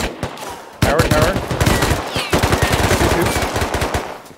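Automatic weapons firing in the video game Rust, loud and close: a short opening volley, then sustained rapid bursts of machine-gun fire rattling on for several seconds.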